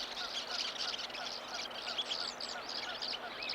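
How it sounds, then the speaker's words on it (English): Tree swallow chatter mixed with staccato western kingbird calls from birds perched on overhead electrical lines in Montana, a dense, continuous outdoor chorus of chirps and twitters at moderate distance. "her liquid chatter blending with the staccato calls of the western kingbirds on the electrical lines overhead"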